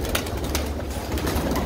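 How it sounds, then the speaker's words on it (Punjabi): Several pigeons at a loft in Kurukshetra coo close together in low, throaty rolls, a dense continuous murmur over the short stretch. "ਕਾਫੀ ਕਬੂਤਰ ਨੇ ਬਾਈ ਉਹਨਾਂ ਦੇ ਕੋਲ"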